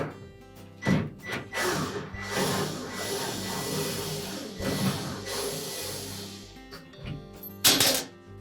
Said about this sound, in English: using either a number 2 posidrive or a number 2 Phillips screwdriver, we'll remove those two screws